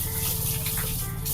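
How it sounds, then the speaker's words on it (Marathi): Water pours over newly planted lemongrass, a brief steady gushing splash close by, no voices. "आता पाणी टाकलं आहे"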